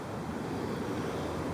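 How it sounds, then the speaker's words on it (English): Water runs steadily into a garden pond as it is being filled, a continuous broadband rush like surf that stays even throughout with no talk. "we're just filling the pond up so it looks pretty for the night"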